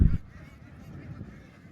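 Farm ducks let out one short, loud call at the start, followed by faint, low murmuring calls in the background.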